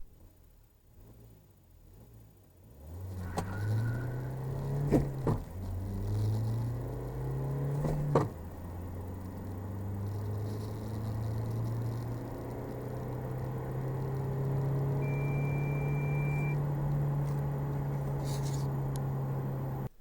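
A SsangYong Musso Grand 2.2 diesel 4x4 pickup accelerates hard from a standstill, its steady engine drone rising through several gear changes with brief dips, loud and close over a sustained rumble.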